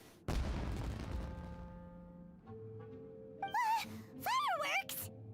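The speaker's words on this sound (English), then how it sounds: "It sounded like fireworks." In a Genshin Impact cutscene, a fireworks display opens with a sharp boom that rumbles and fades. A few seconds later several bright whistling, crackling bursts follow, with game music lingering underneath.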